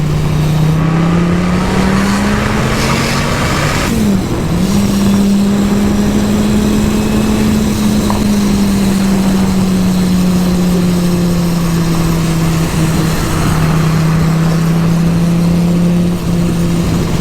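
A loud boosted 1,200-horsepower Viper engine roars steadily under hard acceleration in third gear at 3,500 RPM, its droning pitch holding and slowly climbing with constant road and wind rush.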